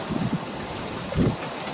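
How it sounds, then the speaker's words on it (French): Gusty wind at Sallanches buffets the microphone in broad rumbling surges, with a stronger gust near the start and another toward the end over a steady whooshing background; rain may be falling. "Ouais, ça souffle bien."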